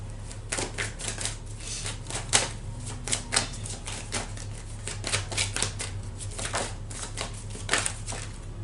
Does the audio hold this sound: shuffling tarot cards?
yes